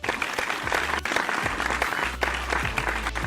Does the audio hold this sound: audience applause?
yes